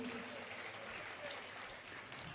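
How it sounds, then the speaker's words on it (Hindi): Audience applause at a Hindi poetry recital, a steady wash of clapping from a crowd that continues throughout at moderate level. "यदि आप सबकी तालियां मुझे मिले तो।"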